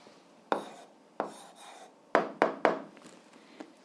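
Handwriting on paper as an algebra answer is written down: a handful of quick, scratchy strokes and taps in irregular bursts, fairly quiet and close, with no talking.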